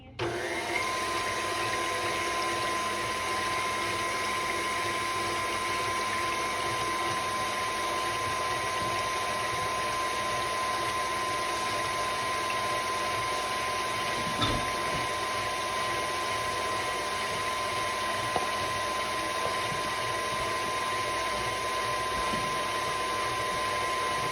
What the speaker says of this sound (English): I'm going to start with 2 cups of heavy cream in my mixer.